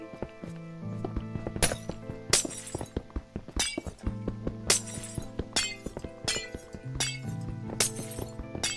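Glass blocks shatter repeatedly in Minecraft, a series of sharp crashes spaced a second or so apart, with quiet game music humming beneath.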